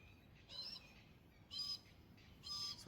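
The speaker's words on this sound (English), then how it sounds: "Some kind of parrot, perhaps? Got a multitude of cool parrots in Australia." An Australian parrot gives three faint, musical calls spaced about a second apart, each a short bright phrase over quiet background.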